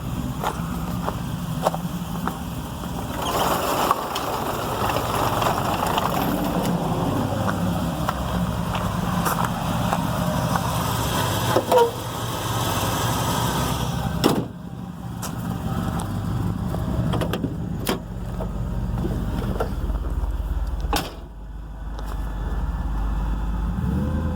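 An LS V8 engine in a swapped S10 pickup truck drones and rumbles steadily while driving, with occasional surges and clunks over a long, continuous stretch.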